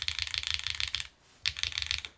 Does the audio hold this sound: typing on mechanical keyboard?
yes